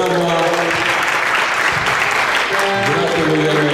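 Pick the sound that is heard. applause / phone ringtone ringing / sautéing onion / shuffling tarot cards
applause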